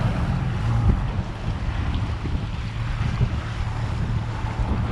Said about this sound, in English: And the boat don't even want to go.